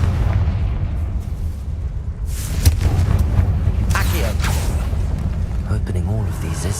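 Confringo fire spell cast in the Harry Potter game Hogwarts Legacy, heard as a loud booming explosive burst with crackling blasts over a rumbling game soundscape, while a voice speaks.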